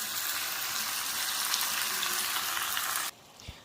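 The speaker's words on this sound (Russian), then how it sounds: "Сейчас я добавляю водички и тушу." Champignon mushrooms stew in a pan with a splash of added water, giving a steady, close bubbling sizzle that cuts off abruptly near the end, leaving a faint quiet tail with one small knock.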